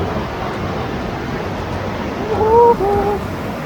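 Rushing water of Kanapsan Falls in Montalban, Rizal roars steadily in the background, a broad constant wash, with a short whistle-like tone briefly rising over it near the end.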